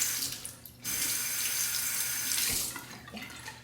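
Tap water runs into a sink as a Feather adjustable razor is rinsed, a steady close hiss with a brief break and some splashing.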